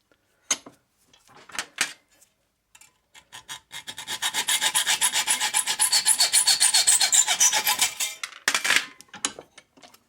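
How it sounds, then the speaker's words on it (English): A metal file rasping burrs off freshly cut metal ends, a few short strokes then a long run of rapid, even back-and-forth scraping, close and fairly loud, ending in a few scattered strokes. "Take the burrs off."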